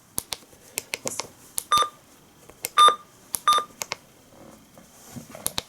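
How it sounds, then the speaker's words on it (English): Three short electronic beeps from a Givoust MD319 device stand out among sharp clicks and taps of button presses, close and fairly loud. "You can actually turn on and off the button beeps."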